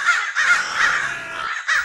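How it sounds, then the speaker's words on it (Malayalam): A flock of crows caws loudly and close by, harsh calls coming in several overlapping bursts with only brief gaps, and no voices. "ഇവിടെ നിറയെ കാക്കകളാ"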